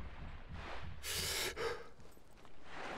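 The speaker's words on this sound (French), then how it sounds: "C'est normal qu'il fasse ce bruit là, je suis essoufflé, c'est ça?" A soldier character in the Arma video game pants out of breath, with a steady run of heavy close breaths and a louder sharp gasp in the middle.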